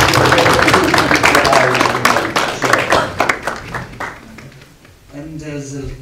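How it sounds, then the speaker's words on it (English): Loud crowd applause with dense clapping that gradually thins out and fades, followed by a brief stretch of quieter sound near the end. "let's give it a round of applause"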